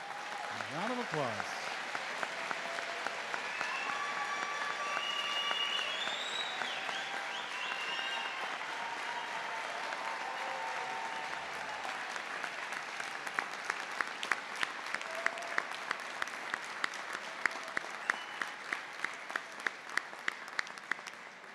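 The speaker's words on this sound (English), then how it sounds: "A round of applause." A commencement ceremony audience claps at length, a broad, sustained wash of hands. Individual sharp claps stand out more clearly toward the end, and a few voices can be heard under the applause.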